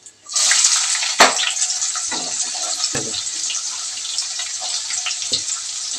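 Sliced onions dropped into hot oil for a village-style prawn curry burst into a loud, close, continuous sizzle with scattered crackles and pops, no talking over it.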